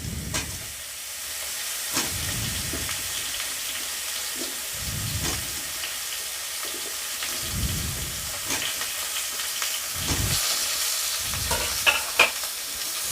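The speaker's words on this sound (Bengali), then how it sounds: "বেগুনগুলোকে একটু ভালোভাবে একটু ভেজে নেবো লাল করে উল্টে পাল্টে একটু ভালোভাবে চুঙিয়ে চুঙিয়ে ভেজে নেবো" Cut brinjal frying in oil in a wok for sukta, a steady close sizzle with periodic scraping strokes of a spatula stirring the pieces at a regular rhythm, no voices.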